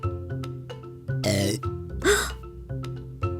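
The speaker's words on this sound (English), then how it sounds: "Wow, she's still burping." Cartoon child burping, two loud, rough belches in quick succession surrounded by short vocal grunts and music-like tones.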